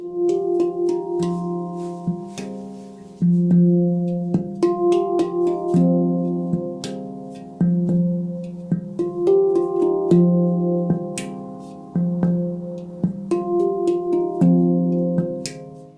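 A handpan plays a repeating melodic pattern of ringing, bell-like struck notes, each one sustaining and overlapping the next, steady and close with no voices.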